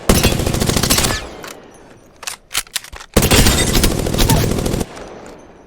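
Prowler burst fire from the video game Apex Legends: rapid, loud bursts of automatic gunshots, a long volley at the start, a few short separate shots, then another sustained volley, with no talking.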